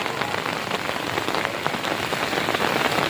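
A steady downpour during a lightning storm patters densely on a close surface, loud and even throughout, with the drumming swelling slightly toward the end and no talking.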